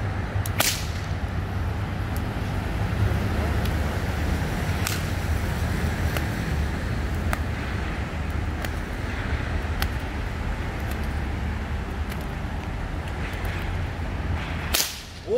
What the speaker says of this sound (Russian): наш друг Монтри хочет показать свое умение владения хлыстом.